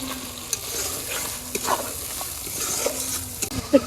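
Ginger, garlic and green chillies frying in a pan, a steady close sizzle with soft stirring and occasional scrapes and taps of a spatula, no talk.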